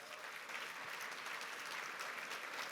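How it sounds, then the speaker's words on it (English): At the Celebration of Hope 2024 benefit event, a large audience applauds sponsors with steady, dense clapping that holds at an even level throughout, heard from a distance and fairly quiet. "Please give them a big round of applause."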